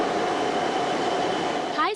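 Wuhan-Guangzhou high-speed passenger train running on its trial run, a steady broadband rushing roar throughout, ending in a brief rising whine.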